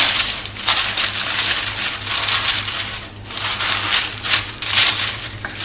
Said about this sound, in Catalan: posem el paper parafinat per damunt